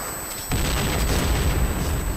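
A grenade blast in the first-person shooter Point Blank goes off abruptly after a brief quiet moment, then a dense, loud rumbling roar of the explosion continues steadily to the end.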